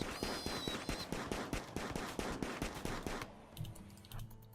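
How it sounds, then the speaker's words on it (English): Rapid, evenly spaced sharp shots ring out in a dense volley while a wild boar is targeted in the video game Rimworld, ending abruptly into a quieter tail of softer clicks. "So I want you to come over here and fire at this wild boar."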